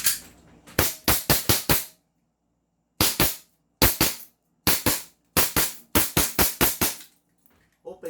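Rapid strings of sharp, loud cracks from a 1911 D-Day pistol, shots fired in fast groups of three to five with short gaps between volleys, close and punchy.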